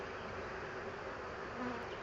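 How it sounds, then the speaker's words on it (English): Honey bees buzz steadily and close during a spring hive inspection, forming a continuous, even drone without pauses. "Some of these bees are stuck."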